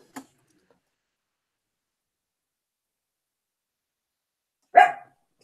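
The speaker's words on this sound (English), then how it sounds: "my dog's barking." Single dog bark heard in a quiet room, a short sharp yelp near the start and a louder, fuller bark near the end with silence between.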